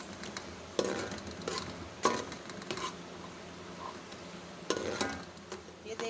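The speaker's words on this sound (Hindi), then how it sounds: "मिक्स करके भून लेंगे।" Minced keema fries in a pan with salt and turmeric while being stirred, a steady soft sizzle broken by repeated scraping strokes of the spoon at irregular intervals, close and moderately quiet.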